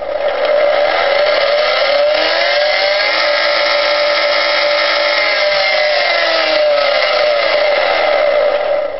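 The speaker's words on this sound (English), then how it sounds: "It brings the motor up to speed slowly and brings it down slowly" A 220-volt three-phase 1.5 HP electric motor driven by a variable frequency drive from single-phase power, steady loud whine with pitch bending up then gliding back down, continuous for the whole stretch with no talk.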